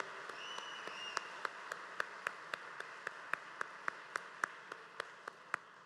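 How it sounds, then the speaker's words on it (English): Scattered, sparse hand claps from a small audience at the SWUPY Awards ceremony, individual sharp claps ringing out one by one at a fairly even rhythm, faint and roomy, with no talk over them. "Can we once again have a round of applause for Miss Diane Moody?"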